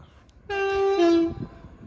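A passing train sounds its horn in one sustained two-tone blast that shifts lower partway through, heard outdoors from a bike route with nobody talking.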